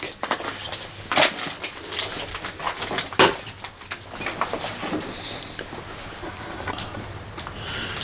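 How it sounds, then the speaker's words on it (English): Glass crunching underfoot as someone treads on a pane of glass outdoors between two houses, with several sharp crackling bursts and scattered crunches spread over the stretch against faint background ambience. "I stood on a pane of glass."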